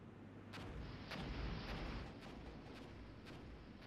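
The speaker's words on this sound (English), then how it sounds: "so you can see here we have the rocket artillery I was talking about prior" Rocket artillery fire in the video game Armored Brigade is heard as a faint, rolling rumble with a series of dull, distant thumps over a steady low background.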